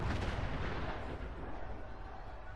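An explosion in the video game Fallout London fills the whole clip as a loud, dense blast with a long, heavy rumbling tail and no pause.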